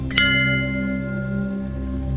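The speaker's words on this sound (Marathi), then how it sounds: "मस्त आपला घंटा वाजून घेऊया आपण" One sharp strike of a temple bell, followed by a long, bright ringing tone that sustains and slowly fades.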